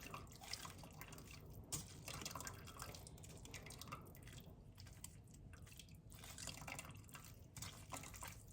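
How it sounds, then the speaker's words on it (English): Chicken broth drips and trickles steadily as it is strained and pressed with a spoon, a soft, continuous liquid patter with faint squishing, quiet and close, no speech. "I'm just taking a spoon and just kind of pressing as much as that liquid I can out."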